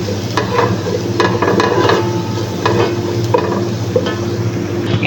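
Food sizzles loudly in a hot pan while a utensil stirs it with repeated scraping strokes and clinks, close up, with no talking.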